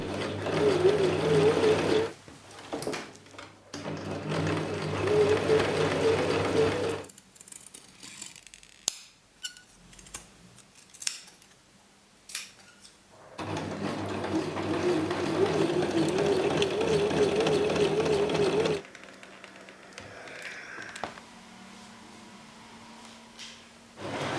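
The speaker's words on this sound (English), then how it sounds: "I'm going to be sewing down here to create that keyhole at the front" A sewing machine stitches fabric for a dress in two long runs of fast, steady motor whirring and needle clatter, close and clear, separated by a quiet stretch of handling clicks and rustles.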